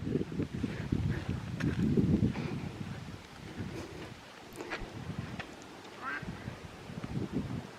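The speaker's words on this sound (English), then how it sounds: "Ducks and geese." Ducks and geese quack intermittently on the water, heard fairly faint through steady wind noise and low rumble outdoors.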